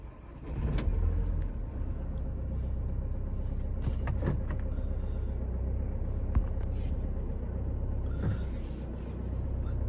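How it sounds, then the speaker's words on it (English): A 2020 VW Crafter van engine starts up with a quick surge, then settles into a steady, close, low idle rumble with a few faint clicks. "Start the engine."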